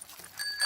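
A bicycle bell rings in a Peppa Pig cartoon, a couple of short bright metallic dings close together, rising in loudness within a fraction of a second.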